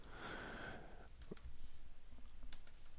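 Soft, quick clicking from typing a journal response on a computer keyboard, close and faint, in short irregular bursts with a brief hiss at the start.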